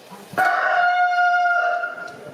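A rooster crows once in a long, loud, drawn-out call during an outdoor Passion play re-enactment in Pasarón de la Vera, Cáceres, ringing out clearly on its own after a brief moment of near silence.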